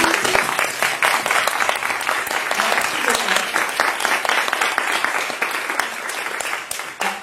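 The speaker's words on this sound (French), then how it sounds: "j'aimerais vraiment un tonnerre d'applaudissements pour Pauline" A conference audience of women entrepreneurs breaks into loud, dense applause that holds steady for several seconds before thinning out at the end, with some voices mixed into the clapping.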